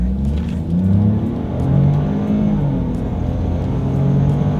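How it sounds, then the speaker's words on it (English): A 2020 Ford Escape with a turbocharged 3-cylinder engine accelerating from inside the cabin: a close, steady engine drone that climbs in pitch through the gears, alone. "Let's do a quick little acceleration here, and let's see how quickly we can get this new 2020 Ford Escape here up to speed"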